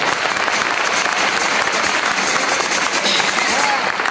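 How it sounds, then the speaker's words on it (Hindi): A meeting audience in Kolkata applauds first-time guests, a dense, even burst of many hands clapping at close range that holds steady throughout. "एक बार इनके सम्मान में जोरदार तालियां बजाएं।"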